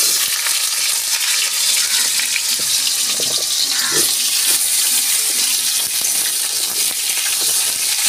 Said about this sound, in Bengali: আমি আলুটা একটু ভেজে তুলে নিচ্ছি।